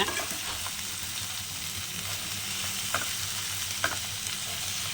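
Chicken for village-style pepper chukka sautés in a pan with a steady, close sizzle and occasional light scrapes and taps of stirring, with no talking.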